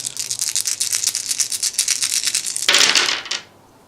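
A handful of dice shaken and rolled for a tabletop naval wargame, a dense plastic rattle and clatter that builds to a louder tumble, then settles abruptly into quiet.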